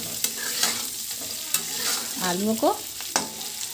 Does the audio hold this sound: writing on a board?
no